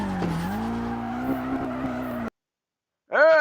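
Car drifting in the video game FR Legends, a sustained tire squeal over a steady engine tone that cuts off abruptly, then a sharp rising skid returns after a brief silence.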